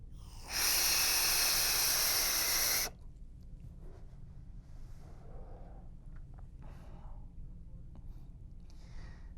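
A single long draw of about two seconds through a Horizon Tech Falcon sub-ohm vape tank with the airflow fully open gives a loud, airy hiss that stops abruptly, followed by faint quiet rustles.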